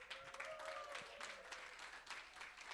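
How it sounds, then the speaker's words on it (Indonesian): Standing church congregation at a worship service in Makassar cheering and clapping, a continuous crowd roar with applause and a brief raised tone, sustained for a few seconds without pause. "Bangkit berdiri, beri sorak-sorak kepada Tuhan."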